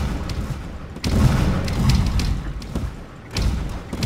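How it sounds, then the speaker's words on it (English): Buildings collapse in the Roblox game Destroy the City, giving heavy booms and dull thuds in uneven bursts, with a louder crash near the middle and another toward the end. "Now is this someone in here just destroying everything?"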